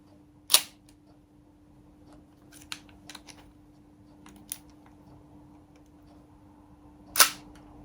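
A 1932 Leica II camera's shutter fires with sharp, loud mechanical clicks, two prominent releases several seconds apart with a few fainter clicks and handling taps between them in a quiet room.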